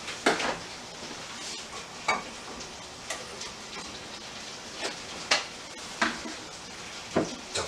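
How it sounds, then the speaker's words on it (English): Butter and flour roux being stirred in a hot sauté pan for a homemade mac and cheese sauce: a steady soft sizzle with repeated sharp scrapes and clicks of a utensil against the pan, spaced irregularly, close and fairly quiet. "Now what you want to do is you want to mix it together, and you want to cook that flour taste out."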